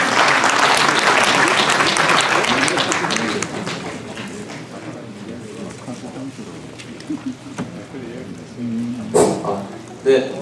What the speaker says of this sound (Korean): 많은 박수로 환영해 주시면 고맙겠습니다